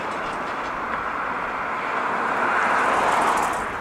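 A CSX freight train rolls past on the line, a steady, fairly distant rumble and rail roar that swells slightly toward the end, heard alone.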